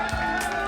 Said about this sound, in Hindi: एक बार जोरदार तालियां हो जाए राइटर्स के लिए।